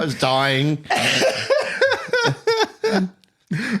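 A voice talks and laughs in quick bursts, breaking into short choppy coughs, close and fairly loud.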